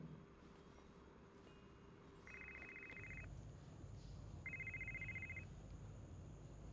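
A phone rings in two short electronic trilling bursts with a pause between them, quiet and slightly distant over low room background.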